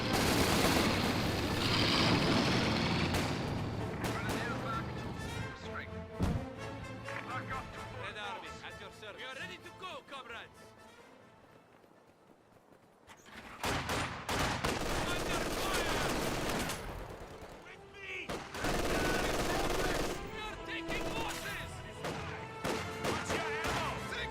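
Gunfire in the real-time strategy game Company of Heroes 2, with bursts of rifle and machine-gun shots and crashing impacts running almost continuously, easing off briefly midway before returning loud and dense, heard under a commentator's voice.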